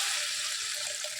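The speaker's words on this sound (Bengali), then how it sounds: "মশলাটা কষালাম, এবার আমি পরিমাণ মতন জল দিয়ে দেবো।" Water pours in a steady, close splashing stream into a pan of spiced tilapia fish curry, brief and unbroken.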